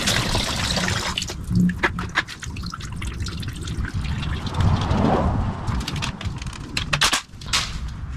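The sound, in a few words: coolant draining from engine block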